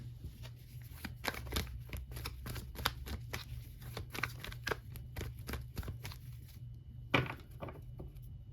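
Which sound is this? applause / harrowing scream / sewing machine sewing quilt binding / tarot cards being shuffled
tarot cards being shuffled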